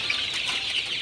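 Chickens cluck and chatter inside a small poultry shed where birds have been moved from a larger one during hot weather; a steady, busy flock murmur with no speech.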